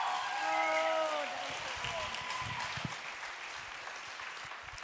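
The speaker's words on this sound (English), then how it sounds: "let's give her a big round of applause" A church audience gives warm, sustained applause, with a few whoops and sung-out voices early on over the clapping, which thins gradually as it goes.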